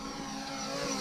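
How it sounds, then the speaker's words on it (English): Camera drone flying over a lake where people fish, a steady high-pitched whine of spinning propellers with tonal hum, constant and fairly close, swelling slightly at the end. "I'm gonna do a Top Gun with the drone."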